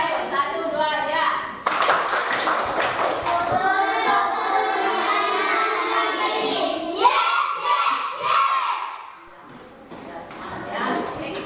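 Schoolchildren in an Indonesian classroom join in a rhythmic spirit clap and shout a cheer together, loud, close and sustained, with a teacher's voice leading.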